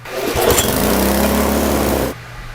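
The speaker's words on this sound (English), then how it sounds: "Well, the engine's running pretty fast right there." A small engine fitted with a transparent carburetor runs loud and fast at close range, a steady buzzing roar that cuts off abruptly near the end, leaving only faint background noise.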